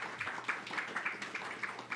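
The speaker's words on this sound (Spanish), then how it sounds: "un aplauso también para ella" Quiet applause from an audience at an academic talk on water, soft and rhythmic with regular clap peaks, heard from a distance.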